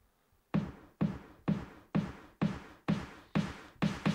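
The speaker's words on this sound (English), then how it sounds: "I have also created a snare roll" Snare roll from a melodic techno build-up toward a drop, with high cuts automated: eight evenly spaced punchy hits, each with a tonal body and a noisy tail, alone and without talk.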